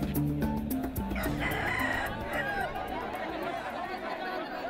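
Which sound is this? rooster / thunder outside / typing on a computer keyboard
rooster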